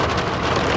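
Steady rain pouring onto a road in hill country, a dense continuous hiss of drops with no voices and no let-up through the short stretch.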